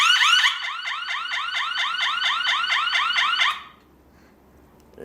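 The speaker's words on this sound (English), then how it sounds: "the beep is very loud in the max position, very loud." A Retekess TH103 motion sensor security alarm at maximum power sounds a loud, rapid repeating electronic chirp-beep pattern for several seconds, then stops abruptly, leaving near silence.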